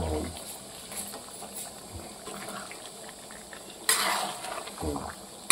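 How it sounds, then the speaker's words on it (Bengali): Mutton curry being stirred in a pot, with soft scraping and sloshing spread through the clip and a sharper clatter of spoon against the pot near the end, fairly quiet and close. "আবার এরকম করে ভালো করে নাড়িয়ে দিতে হবে।"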